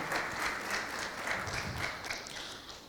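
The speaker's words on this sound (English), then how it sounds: "a big round of applause for her" A fairly faint, steady wash of audience applause fills a hall at an end-of-project event in Nigeria, with many hands clapping in a continuous blur.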